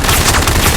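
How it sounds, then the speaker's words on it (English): A rapid, dense burst of gunfire, loud and continuous, with overlapping shots blending into a sustained roar. "The gunshots are kind of overpowering me here"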